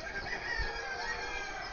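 Country hens and Australorp chickens cluck and crow nearby in a steady, busy, moderately loud stream of calls, with no talking.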